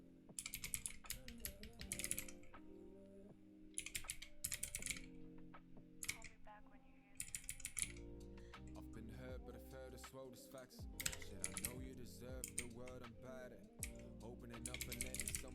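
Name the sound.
typing on a split computer keyboard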